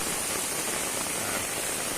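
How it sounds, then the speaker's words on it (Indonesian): Rain falls steadily near a bridge in a flood-threatened village, a dense, even hiss of drops striking surfaces that stays constant and fairly loud throughout, with no voices. "sudah hujan turun lagi."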